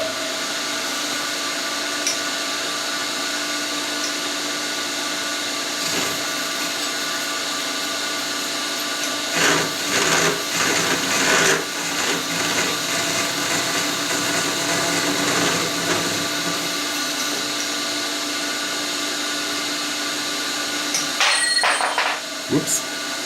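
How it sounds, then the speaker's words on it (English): A slitting saw running at 95 RPM cuts metal on a machine, a steady mechanical whir with a denser grinding stretch partway through, heard up close with occasional clanks and no speech. "I centered the slitting saw. We're running it at 95 RPM."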